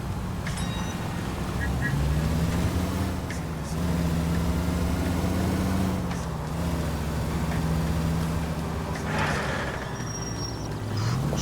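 A car braking with a groaning, squealing brake and rumbling engine in a video game, a long wavering drone under someone talking.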